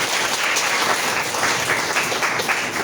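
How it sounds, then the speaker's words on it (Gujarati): Loud, dense applause from an audience welcoming a guest at a church gathering, with many hands clapping together in a steady wash that goes on for the whole stretch, heard close and with no one speaking over it. "જોરદાર તાળીઓ આપીએ."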